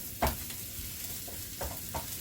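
Onions softening in a gumbo pot give off a low, steady sizzle, broken by a few soft scrapes and taps of stirring, fairly quiet with no talking.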